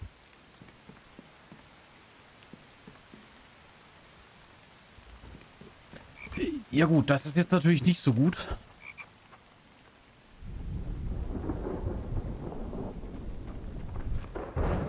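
A thunderstorm rolls through the survival game The Infected: a loud crackling thunder burst mid-way, then heavy rain drumming steadily, with someone briefly speaking over the quieter start.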